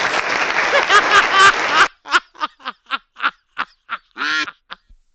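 Duck quacks from a video game ring out loud and close: a dense cluster first, then about ten separate quacks in an uneven rhythm.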